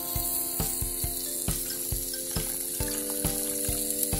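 A carrot dog dropped into a hot pan with marinade, frying with a steady loud sizzle and regular tapping or stirring clicks, close up and with no talk.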